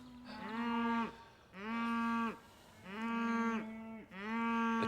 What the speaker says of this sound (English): The cows have spotted me in the field, and that's enough just to get them going.